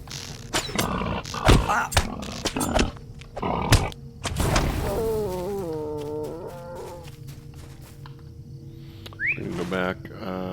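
A boar creature in the online game Lord of the Rings Online growls and snarls in several rough bursts, then gives a drawn-out, wavering cry over a low ambient game backdrop.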